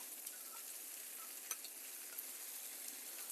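Frozen Johnsonville bacon frying in a pan: a continuous close hiss of sizzling fat, steady and even, with a few faint pops and no voices.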